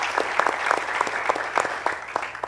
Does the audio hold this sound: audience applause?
yes